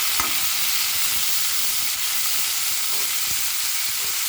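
Chopped tomatoes sautéing with salt in a pan for Tamil-style tomato chutney, a steady loud sizzle with a few soft stirring scrapes, close and continuous with no talk.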